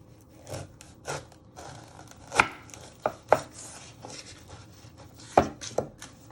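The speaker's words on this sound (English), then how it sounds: "Then you chop the other ends off." A knife chopping the ends off vegetables on a board while prepping party-food toppings: a handful of sharp, separate chops spaced irregularly, close and fairly quiet, with no talking.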